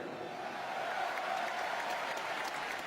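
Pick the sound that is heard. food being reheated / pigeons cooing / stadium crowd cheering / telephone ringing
stadium crowd cheering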